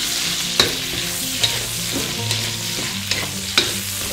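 Vegetables are stir-fried in a wok with a continuous close sizzle, punctuated by sharp metallic clinks and scrapes from a spatula every second or so, with no talking.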